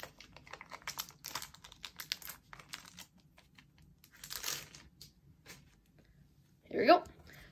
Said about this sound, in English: I have to rip the packaging a little bit.